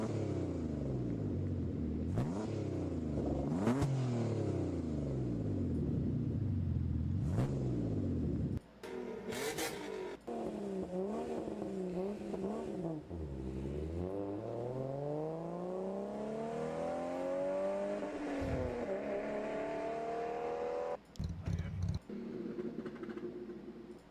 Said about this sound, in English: Alfa Romeo V6 sound.